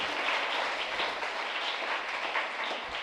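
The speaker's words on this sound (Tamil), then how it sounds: "வருக வருக என்று நாம் கைத்தட்டி வரவேற்போம்" A church congregation claps steadily to welcome the Panipatti villagers at a novena Mass, dense sustained applause from many hands filling the room.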